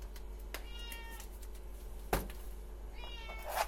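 A cat meows several times in short, whiny calls, with a sharp knock in the middle and a steady low hum underneath.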